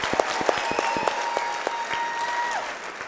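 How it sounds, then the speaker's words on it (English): Crowd at a USFFC 29 MMA event applauds both fighters after a three-round bout, steady clapping with scattered sharp claps and whistles over the full stretch, fairly loud and close, with no talk. "Give them a round of applause."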